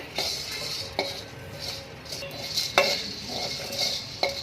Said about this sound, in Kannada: ಇವಾಗ ಇದನ್ನೆಲ್ಲ ಲೈಟಾಗಿ ಸ್ಲೋ ಫ್ಲೇಮಲ್ಲಿ ಇಟ್ಕೊಂಡು ಒಂದು ಫ್ರೈ ಕೊಟ್ಕೊಂಡು ಬರೋಣ